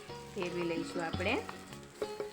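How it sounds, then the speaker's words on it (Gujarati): A suva bhaji (dill greens) pudla roasts in oil on a pan, with a soft sizzle running beneath a voice talking. "આવી રીતના આપણે બીજી બાજુ પણ શેકી લઈશું"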